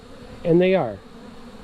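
Bees recently moved from Manila to Baybay City in the Philippines, and now disoriented, give a short, loud buzz that swells and fades within about half a second over a quiet background.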